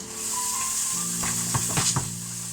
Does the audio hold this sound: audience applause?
no